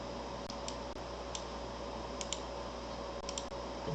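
A computer mouse clicks a few times at irregular intervals, small sharp ticks standing out over a steady low background hum, quiet and without speech.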